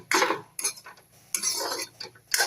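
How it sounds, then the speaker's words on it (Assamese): A spatula scrapes and clinks against a pan in several short bursts, stirring a water spinach fry with brief pauses between strokes. "ভাজিখিনি অলপ লৰাই দিছোঁ"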